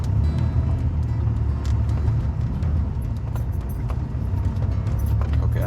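Cabin noise inside a car climbing over the Rockies on low-pressure tires, a steady heavy low rumble and road roar with scattered rattles and clunks throughout.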